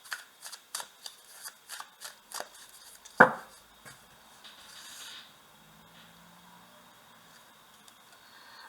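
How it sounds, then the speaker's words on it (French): Tarot cards are shuffled nearby in a quick series of soft riffling taps, followed by a sharper slap of the deck and a brief quieter rustle as the cards settle. "Je vais mélanger."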